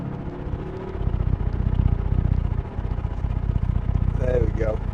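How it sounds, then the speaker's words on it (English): A 2012 BMW M5 with a 4.4-litre V8 and M DCT gearbox revs hard toward its rev limiter, a deep loud rumbling engine roar heard from inside the car with a voice talking over it. "Really, what a noise from that engine."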